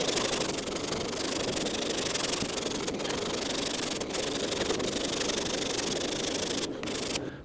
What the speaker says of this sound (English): I'm going to use 80 grit on this orbital sander with the interface pad just to shape this corner.